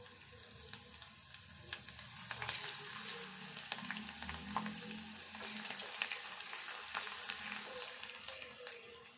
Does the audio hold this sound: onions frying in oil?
yes